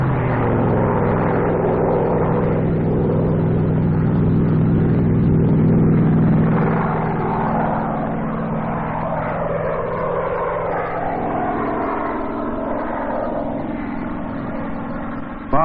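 The piston engine of a P-51 Mustang drones steadily throughout an aerial demonstration, a loud, continuous low rumble whose pitch shifts gently as the aircraft maneuvers.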